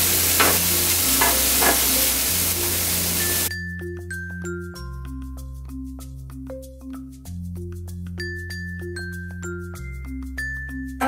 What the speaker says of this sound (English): Now we're going to add some of the organic black beans.